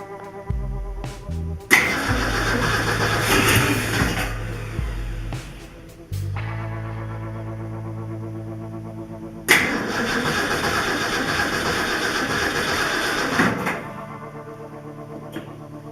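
A Ford 390 V8, unrun for over 12 years and fitted with a rebuilt Holley 4180 carburetor, cranks with a rhythmic starter chug, catches into a rough roar, settles briefly, then cranks and revs again, loud and close.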